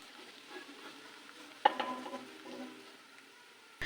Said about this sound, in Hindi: 2 बड़ी इलायचियों को अब मैं प्याज के साथ इसको फ्राई कर लूँगी।